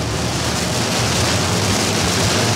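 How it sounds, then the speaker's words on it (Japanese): Heavy rain pounds a car while driving through a Florida downpour, a dense, steady roar of water that stays loud and unbroken from start to finish, with no voices. "すごいね雨が何も見えない"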